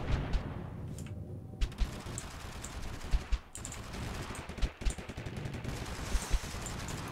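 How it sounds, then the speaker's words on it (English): Sporadic gunshots and short bursts of weapon fire in the video game Totally Accurate Battlegrounds, fairly quiet and scattered over a steady background wash of game ambience. "I wish I realized there was a person shooting at me."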